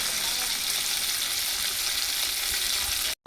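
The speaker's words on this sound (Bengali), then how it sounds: "তেলাপিয়া মাছটা এখন ময় মশলা দিয়ে সুন্দর করে এখন ভেজে নিচ্ছে" Tilapia fish frying in spiced oil gives a steady, dense sizzle that holds evenly close by for about three seconds before cutting off abruptly at the end.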